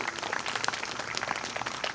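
Audience applause fills a fifth grade promotion ceremony, a steady wash of many hands clapping at close to moderate distance, dense and continuous for a couple of seconds with no talk over it.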